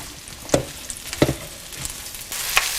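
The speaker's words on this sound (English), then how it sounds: "We're going to caramelize these onions." Coarsely chopped onions caramelize in melted butter in a skillet on a Kamado Joe, giving a soft continuous sizzle broken by a few sharp scrapes and knocks of stirring.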